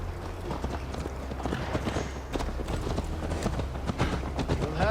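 Horse hooves clip-clop in a steady galloping rhythm while riding in Assassin's Creed Valhalla, close and continuous over low background music and ambience.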